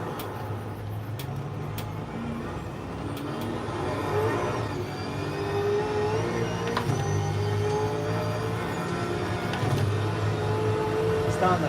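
A Holden Commodore V8 supercar on track with cold tyres, its engine drone rising and falling steadily through gear changes, with a voice talking over the car noise.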